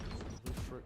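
Rapid gunfire bursts from the tactical shooter Valorant, two dense loud volleys with a short gap, heard over a caster's excited commentary at a collegiate esports match.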